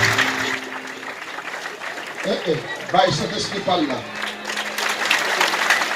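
Congregation at a deliverance service in a French-speaking Tabernacle Reflet de Gloire church applauds steadily, a busy clapping wash running beneath the preacher's loud, exhorting voice.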